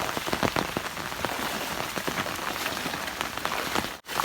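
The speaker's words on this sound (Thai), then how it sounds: "ดู ฝน ยัง ตก" Steady rain pours down outdoors during a flooded rainy day in rural Thailand, a dense even hiss of drops pattering on surfaces, close and continuous with no voices.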